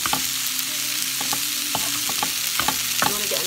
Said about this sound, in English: as you stir fry it, you can kind of squash these down.